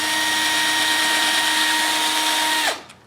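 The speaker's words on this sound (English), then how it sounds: "I'm just going to drill a hole right here in about the center of that platform." A small drill bores a hole into the centre of a wooden carving platform, a steady high whine running loud and close before it suddenly winds down and stops.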